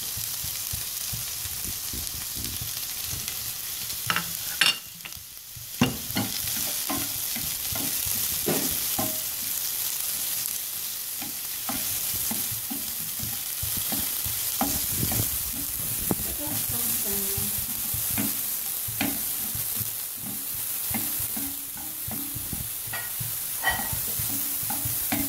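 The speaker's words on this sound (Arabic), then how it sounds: "غادي نضيفو البصلة الخضارية، تحار لينا ان شاء الله مع الزيت" Green onion fries in oil with a constant loud sizzle, while a utensil stirs and scrapes the pan in frequent irregular strokes throughout, with a brief lull partway through.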